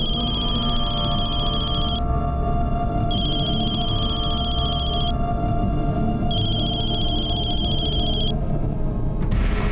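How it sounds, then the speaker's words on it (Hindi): A telephone rings in repeated long electronic bursts, with short gaps between, over a steady low background hum. "माँ बेल तो जा रही है लेकिन फोन नहीं उठा रही है"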